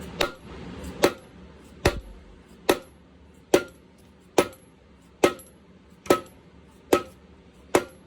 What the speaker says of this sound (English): It's probably been about a full hour of hammering on this.